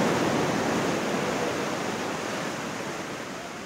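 Sea waves breaking on Puri beach, a steady broadband roar of surf that stays loud and continuous throughout without any talk.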